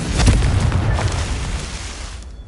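A Confringo blasting spell goes off in the game Hogwarts Legacy: one loud, close boom that rumbles and then fades away over a couple of seconds, with no talking.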